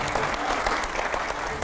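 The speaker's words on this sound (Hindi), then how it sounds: "पहले तो जोरदार तालियां हो जाए रैपिड फायर के लिए।" Enthusiastic audience applause at a studio rapid-fire round, a dense, loud wash of clapping that holds steady throughout, with some crowd noise underneath.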